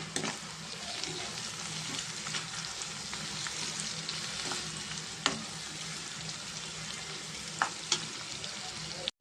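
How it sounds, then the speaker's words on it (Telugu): Onions frying in a pan with turmeric and salt for an egg curry, a steady close sizzle with occasional sharp clicks of stirring, continuous and fairly soft. "ఉల్లిపాయలు మగ్గినాయి కదండి దీంట్లో కొంచెం పసుపు కొంచెం సాల్ట్ చేసుకున్నామండి ఇంకొంచెం సేపు ఫ్రై అవ్వాలండి"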